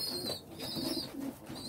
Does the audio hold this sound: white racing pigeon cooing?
yes